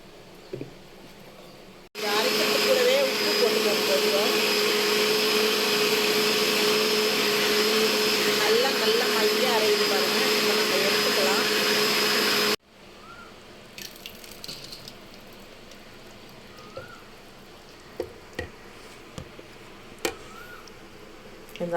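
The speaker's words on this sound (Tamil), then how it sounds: "நல்லா நைஸாக அரைச்சி எடுத்துகிட்டு வரணும்" A mixer grinder whirs loudly and steadily for about ten seconds while grinding appam batter smooth, then cuts out abruptly, leaving quieter kitchen clinks and faint speech.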